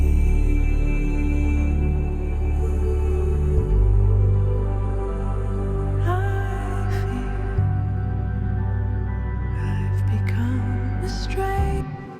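A music section transition built from sustained synth pads and deep bass, slowly fading under a wash of reverb, with a few higher tones flickering in near the end and no voices.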